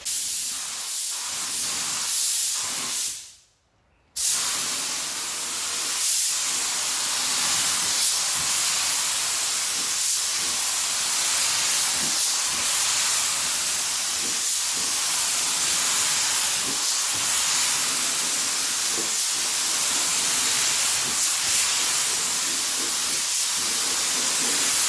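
Rust-Oleum chrome paint hissing steadily from a spray gun onto a test fender, one continuous close spray broken by a short pause near the start, then resuming in even bursts.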